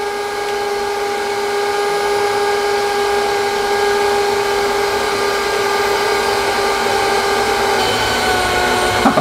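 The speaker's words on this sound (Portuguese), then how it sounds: "A batedeira tá rodando." An electric stand mixer runs steadily while beating chocolate cake batter for a coconut chocolate cake, a constant close whirring motor drone with a few steady tonal lines and no talking over it.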